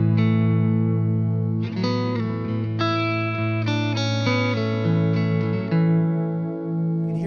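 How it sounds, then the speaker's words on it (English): Electric guitar through an amp with an Xotic RC Booster pedal engaged, giving a boosted, slightly driven chimey tone; a held chord rings first, then a run of picked notes and chords that sustain loudly and decay at the end. "Here's the sound of the booster."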